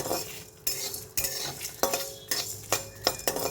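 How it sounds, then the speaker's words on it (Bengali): Coriander seeds and black peppercorns are dry-roasted in a pan and stirred, with repeated scraping sweeps of a spatula and a light rattle of seeds that come close and in an uneven rhythm. "একটু ধনে আর কয়েকটা গোলমরিচ এইটা আমি একটু রোস্টেড করে নেব একটু ফ্রাই করে নেব"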